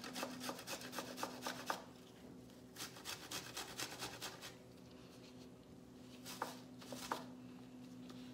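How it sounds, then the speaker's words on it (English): Large garlic cloves grated down for traditional kimchi: quiet, rapid rasping strokes in repeated bursts with short pauses, close and soft, with no talking. "So we're gonna add about 6 large cloves of garlic, but you wanna grate them down also like you did the ginger"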